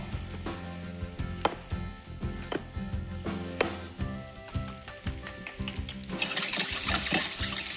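Onion frying in oil, heard as a soft sizzle beneath repeated clinks and knocks of kitchen work, growing into a brighter, louder hiss near the end.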